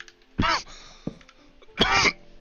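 A man coughs while gathering wood, two harsh bursts about 1.4 seconds apart, close and fairly loud, with a small throat sound between them.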